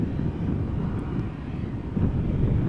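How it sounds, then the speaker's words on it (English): A Boeing 747 airliner approaches Amsterdam Schiphol Airport on a gusty, crosswind day, its engines a broad, steady low roar mixed with wind buffeting, heard outdoors at moderate distance. "747 has approached the glide slope."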